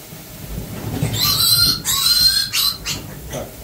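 A piglet squeals loudly during handling on a farm, shrill piercing cries in several bursts with brief breaks between them, over a low rustling background.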